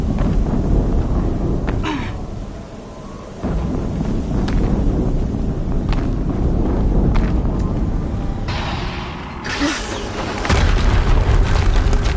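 Booming game explosions from a PS4 tank battle roll on loudly and continuously, with dense rumbling and crackling bursts and no speech.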